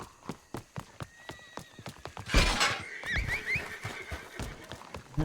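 Horses whinny loudly in a video game amid a steady clip-clop of hooves, with a burst of thudding movement midway and more neighing after.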